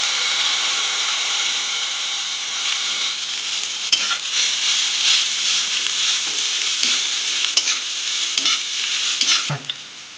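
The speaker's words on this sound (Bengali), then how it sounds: "এরপর আমি এটাকে ভালোভাবে নেড়ে চেড়ে নেব" Vegetable chowmein with soy sauce being stirred and fried in a pan, a continuous bright sizzle with intermittent spatula scrapes and taps, loud and close, no talking.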